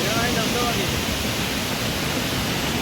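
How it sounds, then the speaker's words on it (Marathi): Ranpat waterfall at Ukshi pours in a steady, loud, dense rush of falling water that fills the whole span without a break. "बाजूलाच रानपाट धबधबा वाहतोय"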